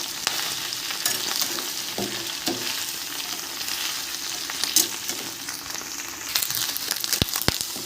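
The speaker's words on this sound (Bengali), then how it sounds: "চিচিঙ্গেটা দিয়ে দেব। ফোড়নের সাথে ভালো করে মিশিয়ে নেব।" Ridge gourd frying in a pan with tempering spices, a steady close sizzle with scraping stir strokes and a few sharp clinks of the spatula, no talk.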